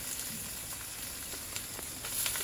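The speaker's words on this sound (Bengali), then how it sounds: "পেঁয়াজ কাঁচামরিচ ভাজা হয়ে গেছে এখন এখানে দিয়ে নিচ্ছি কুমড়োগুলো" Pumpkin pieces dropped into frying onion and green chilli in a pan, a soft steady sizzle that swells slightly near the end.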